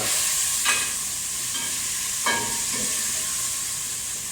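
Beef pieces sizzle steadily in a hot pan for steak Mexicana, a constant close frying hiss broken by two short scraping clatters as the meat is stirred and turned.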